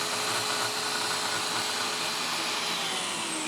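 A track saw cuts through wood with a steady high whine and a broad rushing roar, close and continuous, with no talk.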